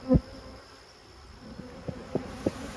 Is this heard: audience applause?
no